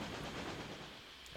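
Trains in the Railway Empire railroad strategy game roll past as a steady, dense rumbling clatter with hissing noise, a continuous mid-loud wash of rail sound over little more than a second.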